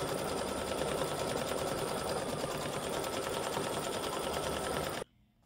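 An embroidery machine stitches a fabric banner piece with a loud, steady, rapid mechanical whir that runs without pause for about five seconds, then cuts off abruptly into quiet.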